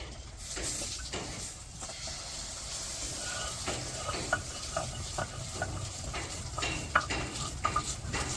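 Dried fish with garlic, green chili and onion frying in a pan, a steady low sizzle with scraping stirs and a few sharp clinks of a utensil against the pot.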